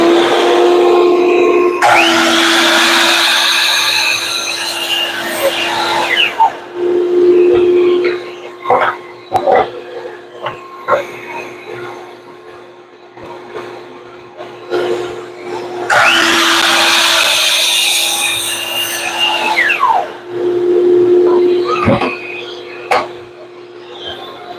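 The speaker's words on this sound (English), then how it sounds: "And vacuum and miter saw." A miter saw cuts wood for signs in a workshop while a shop vacuum runs. Two loud, whining cuts spin down in turn over a constant vacuum drone, with clatter and knocks between them.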